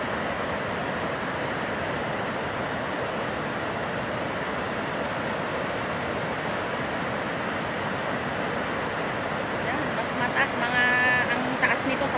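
Water overflowing at Angat Dam makes a steady, dense roar of rushing water with no break in level, joined by a wind-like rumble toward the end.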